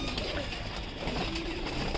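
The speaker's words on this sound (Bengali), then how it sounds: "এই হচ্ছে কিছু কালারিং কবুতর আছে এর ভিতরে" Pigeons coo softly in a loft housing colored birds of khaki, red khaki and silver types, a steady low murmur of several birds throughout under a constant background hiss.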